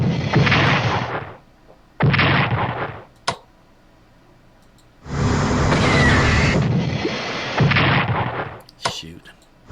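Bombers attack in the World War II strategy game Strategic Command World at War: several loud, heavy blasts of bombing and explosions come in long roaring bursts separated by short silences and a few sharp cracks.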